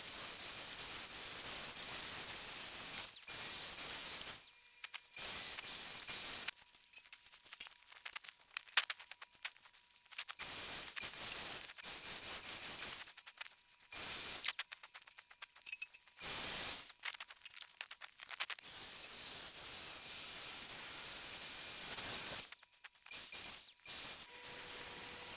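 Paint sprayer spraying stain-blocking primer onto pine lumber inside a plastic-sheeted area, a steady broadband hissing spray broken into repeated bursts with short silent pauses between passes, no talking.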